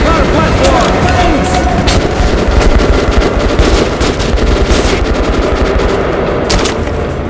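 Loud rapid automatic gunfire from the video game Metro Last Light, dense sustained bursts with booming shots close up, with faint talk mixed underneath.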